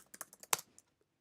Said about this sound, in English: So you want to type in Yorkie